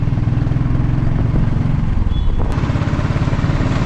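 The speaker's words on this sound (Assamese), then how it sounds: "আজি থাণ্ডাৰবাৰ্ডখনৰ এক্সজষ্টটো ভালকৈ শুনাব পাৰিলোঁ হয়।" A Thunderbird motorcycle's exhaust, heard close and loud, rumbles in a steady low pulsing thump with a faint brief whine near the end.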